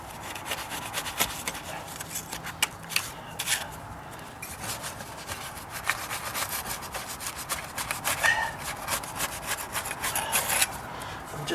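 Dull knife scraping old caulking off wooden deck stairs, a steady run of rough, rasping strokes close by, uneven in rhythm with brief pauses between pushes.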